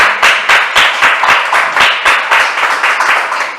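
A church congregation claps in unison for the Lord during a sermon, loud and close, with sharp, evenly spaced claps keeping a steady, brisk rhythm throughout.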